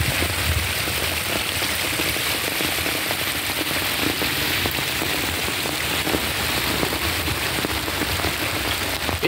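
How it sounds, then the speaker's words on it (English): Steady rain on a stormy day, a dense unbroken hiss of drops on surfaces that stays loud and even throughout, with no voices. "today's a rainy day today"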